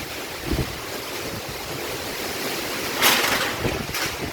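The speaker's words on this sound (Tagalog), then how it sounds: "Tamat na baskog ang hangin." Strong typhoon wind in Capiz, Philippines roars steadily across the microphone, with a louder gust buffeting in near the end; no voices.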